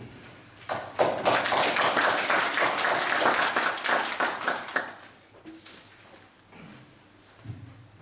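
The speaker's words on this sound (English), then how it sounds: "let's give him a round of applause" Lecture audience at an international arbitration talk breaks into a dense burst of applause that holds for several seconds, then trails off into a few scattered claps and quiet room noise.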